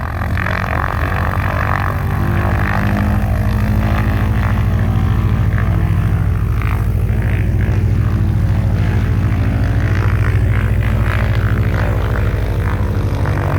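A loud propeller airplane drones steadily on a fly-by at Stearman Field, its engine roar rising and swelling as it passes close by, with no voices.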